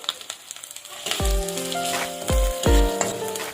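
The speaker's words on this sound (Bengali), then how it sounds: "আদা বাটা দিয়ে দেবো এবার দিয়ে দেবো একটু হলুদ" Ginger paste and turmeric hitting hot oil in a pan for moong dal, a sharp sizzle bursting up and then a steady frying hiss, a spoon knocking against the pan a few times.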